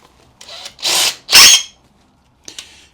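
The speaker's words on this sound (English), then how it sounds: "Drill that out and re-tap it to M6." A power drill drills out a bolt hole on a new bike, with two loud bursts of high-pitched whirring close by, separated by short pauses, and a brief faint spin near the end.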